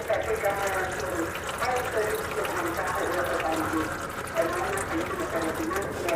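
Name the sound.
gearbox oil draining from Jeep KK automatic transmission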